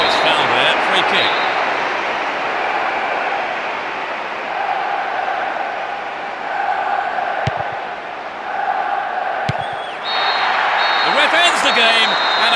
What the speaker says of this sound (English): Ends the game, and a huge roar from the crowd.